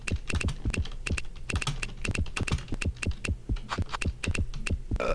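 Rapid typing on a computer keyboard, close and steady, with clustered clicks and keystrokes in an uneven rhythm over a low hum, no voices.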